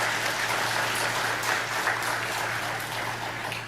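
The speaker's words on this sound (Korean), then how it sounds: "박수 한번 보내주시기 바랍니다" Steady applause from a church congregation during a Sunday service, a dense wash of clapping hands at moderate volume with no talking over it.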